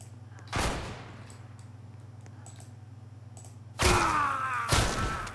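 Two booming blasts from a sawn-off shotgun in a Roblox game, spaced a few seconds apart over a steady low electronic hum, the second followed by a quick extra thump.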